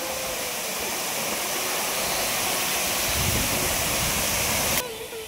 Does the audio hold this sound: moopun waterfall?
yes